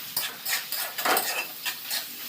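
Carrots and beans go into hot oil with onion and green chilli in a kadai and sizzle, and a spoon stirs and scrapes them. Soft clattering scrapes come in an irregular rhythm, fairly quiet and close, with no talking.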